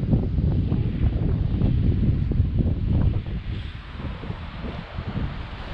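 Strong gusting wind of about twenty miles an hour roars steadily across the microphone on the Bay of Fundy coast in spring, loud and rumbling, easing slightly partway through with no voices.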